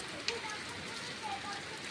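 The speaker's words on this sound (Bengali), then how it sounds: "এখনো বৃষ্টি বৃষ্টি আর বৃষ্টি" Rain falls as a faint, steady hiss of drops, with a few soft taps and faint voices in the background.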